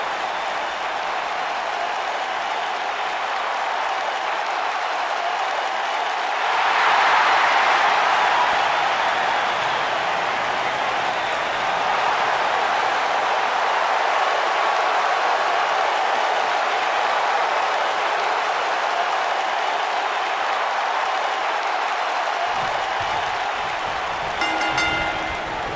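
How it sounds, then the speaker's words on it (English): Wrestling arena crowd in the WWE 2K19 video game, a steady roar of cheering that swells briefly early on and holds loud and continuous throughout, with no talk over it. "Listen to this crowd, guys. They're fired up for this one."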